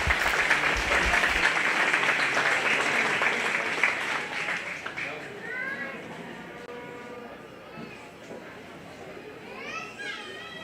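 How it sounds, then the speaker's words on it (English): Applause for the champions at a 4-H/FFA beef cattle show, a strong crowd clapping that fades after about five seconds, followed by chirping birds and cattle sounds in the barn. "Let's give them a round of applause."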